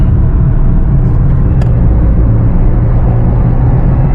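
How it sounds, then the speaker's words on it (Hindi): Steady rumble of car traffic on a congested US highway carpool (HOV) lane, heard from inside a vehicle as a constant low road and engine drone with no talk. "तो अगर किसी को लगता है वो यूएस आके ट्रैफिक से बच जाएगा, तो ये है यहाँ का ट्रैफिक।"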